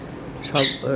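A conure parrot gives a short, sharp squawk close by, cutting briefly through nearby talk.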